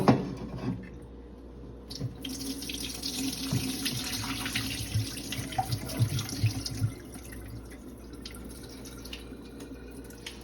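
Tap water runs steadily into a sink, rinsing vinegar off vegetables in a home kitchen, a continuous splashing stream lasting the whole stretch with no voices over it.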